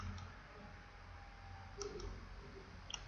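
Several crisp, quiet computer mouse clicks, a close pair followed by another after a short pause, over a low steady background hum while someone poses characters in software.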